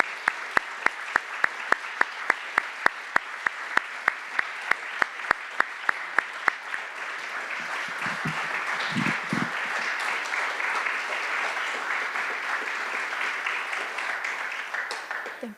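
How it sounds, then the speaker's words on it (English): Applause from the audience at Colonel Czekanski's military retirement ceremony, starting as slow, evenly spaced single claps and then swelling into a dense, steady round of clapping that carries on alone. "We join in a round of applause for Colonel Czekanski, Mrs. Czekanski, and the Czekanski family."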